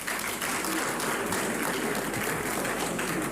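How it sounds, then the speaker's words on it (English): An audience at a national assembly committee conference on petroleum resources claps steadily, a dense and fairly faint patter of many hands with no voices. "So we should give them a hand of applause, please."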